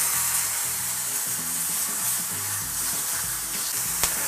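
Marinated meat fries in a pan greased with olive oil, a steady close sizzle and hiss that runs throughout, with faint low rumbles and no voices.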